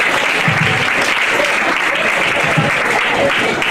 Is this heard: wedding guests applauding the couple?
yes